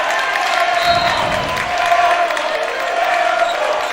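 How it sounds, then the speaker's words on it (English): A crowd at a high school varsity basketball game between Wamego and Ottawa roars and claps in a steady, loud wash of cheering that holds across the moment. "Crowd getting involved."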